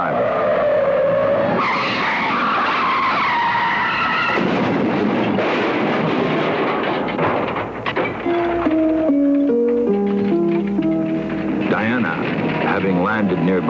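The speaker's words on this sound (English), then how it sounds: "a car on the nearby highway went out of control, veering away from an oncoming drunken driver" A car on a highway skids out of control, tires squealing loudly over engine noise and a high whine, with voices and shifting tones mixed in throughout.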